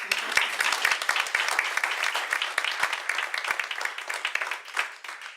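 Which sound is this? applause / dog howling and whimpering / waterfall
applause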